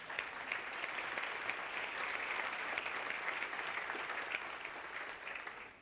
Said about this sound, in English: So let's hear a round of applause for the success.